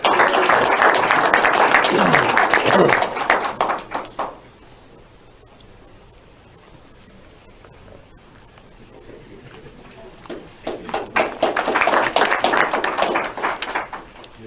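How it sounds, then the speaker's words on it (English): Dense applause from attendees at a board of directors meeting fills the room, fades to a near-quiet lull with faint rustling, then swells back into another loud burst of clapping. "Round of applause."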